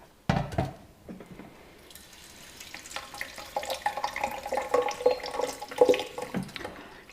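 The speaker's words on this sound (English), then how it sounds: "Take the dye off the heat and rinse them under the tap." Freshly dyed beads rinsed under a running kitchen tap, water splashing and trickling close by after an initial clatter, growing louder and more gurgling toward the end.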